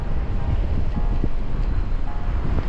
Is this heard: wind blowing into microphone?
yes